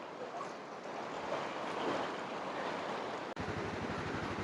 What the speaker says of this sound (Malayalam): ഇവിടെ നിന്നെല്ലാം നോക്കിക്കേ ചെറിയ ചെറിയ കൈത്തോടുകൾ ഒഴുകി വരുന്നുണ്ട്.